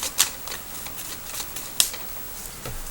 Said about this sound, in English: I shuffle one more time.